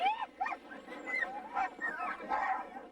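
Sled dogs in the Athabascan village of Tanana, a chorus of overlapping yips, whines and howling barks at moderate distance, continuous and unsteady, with no speech.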